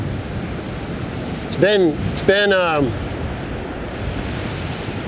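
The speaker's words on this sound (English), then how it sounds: "It's not too big a surf out there." Ocean surf rolling onto a windy beach near Orick, California, a steady loud wash of waves and wind noise with someone speaking briefly over it.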